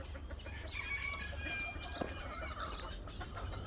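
Farm chickens and chicks cluck and peep softly in a barnyard, faint scattered calls over a low background rumble.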